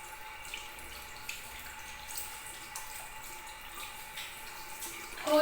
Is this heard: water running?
yes